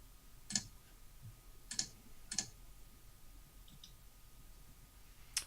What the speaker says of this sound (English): I didn't know whether or not somebody else was clicking